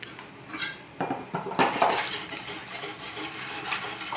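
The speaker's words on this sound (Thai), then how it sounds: "คนให้ทุกอย่างสุกนะคะ" A spoon stirs coconut milk jelly mixture made with boxed coconut milk in a metal pot, giving irregular scraping and clinking strokes that grow busier after the first second, fairly close and moderately loud with no talking.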